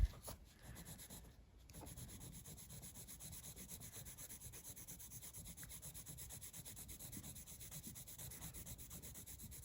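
A hot pink colored pencil rubs across paper in an adult coloring book, a close, quiet, steady scratching of rapid back-and-forth strokes that continues with only a brief pause near the start.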